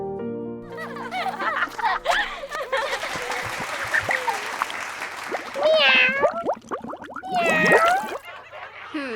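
A voice imitates a cat's meow a couple of times, drawn-out and tuneful, after a stretch of talking with some background chatter.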